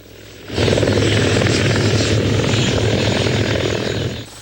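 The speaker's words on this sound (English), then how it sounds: "3 Griffin choppers prepare for liftoff from the grounds of the Red River X" Three Griffin military helicopters idle on the ground at an army exercise before liftoff, rotors and turbines roaring loudly and steadily after a sudden rise in level, with no talk.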